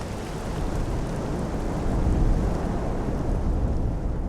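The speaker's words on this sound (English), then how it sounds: "But the rain falls far away." Steady rain hissing across open savanna far off, a broad even wash with low rumbling undertones and gusting wind, no single drops standing out.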